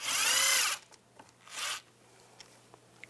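A power driver with a 7mm socket backs a screw out of a GMC Yukon door during mirror installation, two short whirring bursts, the first longer, close and loud, followed by faint clicks and handling.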